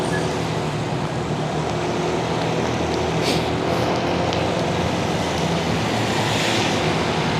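Steady, broadband rushing of flowing river water from the Bacas River during rain, constant and fairly loud with some wind buffeting, no voices.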